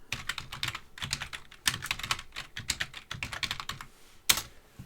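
Rapid keystrokes on a computer keyboard while a password is entered for a remote session, arriving in short irregular bursts with brief pauses and one sharper click near the end, close and clear with no talking.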